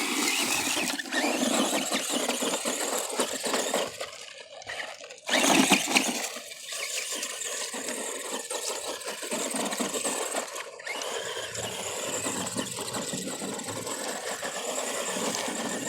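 An ARRMA Granite Voltage Mega 2WD RC monster truck's electric motor whines at a steady high pitch, rising and dipping with throttle, close and continuous with a brief louder surge midway.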